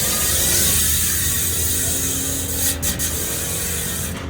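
A Paps Pro 3 alloy bicycle hub on a carbon-rim wheelset spins freely, its freewheel giving a steady, loud, close rasping buzz of rapid ticks that dips briefly partway through before continuing.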